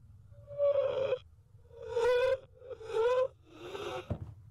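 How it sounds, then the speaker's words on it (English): Reversed, heavily distorted crying warped into gasping, choking sounds: three or four drawn-out, strained harmonic wails in separate bursts, with a short sharp catch near the end over a low rumbling bed. "it is reversed and very distorted to sound like this gasping, choking sound"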